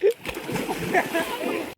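Someone jumping from a height into water for a swim, a splash at the start followed by churning water, with excited voices talking over it.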